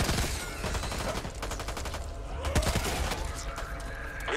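Gunfire in the zombie shooter Back 4 Blood, rapid bursts of automatic shots rattling close and loud, with scattered single cracks and background game noise.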